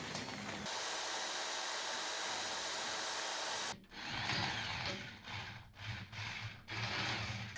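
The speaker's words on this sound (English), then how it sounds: "I will use a milling bit as well as a drill bit." A power drill fitted with a milling bit and a drill bit cuts a lock hole on a workshop cart, running steadily and close for several seconds, then breaking into short pulsing bursts as it bites and releases.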